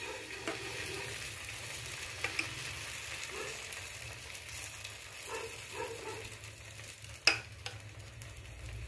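Egg batter poured into a gap in a bread slice fries quietly in a pan, giving a soft, steady sizzle with a few light clinks and scrapes.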